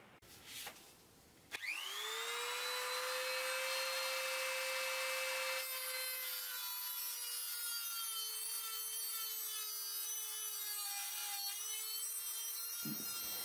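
A power tool cuts about a centimeter off an HF80CL ham radio antenna element. The tool spins up with a rising whine, grinds steadily and loudly for around eleven seconds, then stops abruptly.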